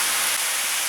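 Paneer cooks gently in a pan over a low flame, giving off a steady, soft, even sizzling hiss for about a second.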